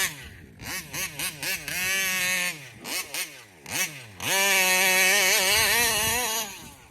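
A Taylor RC 35 reed nitro engine in an RC car rips off the line with loud, high-pitched revving, several short rising bursts followed by a sustained full-throttle scream close by.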